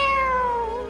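A person voices a single drawn-out cat meow, loud and close, a falling nasal tone under a second that plainly mimics a cat.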